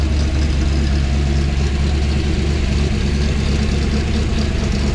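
A 1962 fuel-injected car engine idles with a steady, deep rumble, loud and close, running continuously without any voices.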